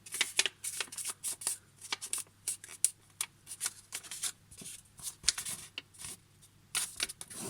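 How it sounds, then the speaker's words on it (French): A sheet of paper is folded into a triangle for an origami flower pot, with quick, irregular crisp rustles and creases sounding close and quietly, alone without talk. "On va plier la feuille en triangle une fois."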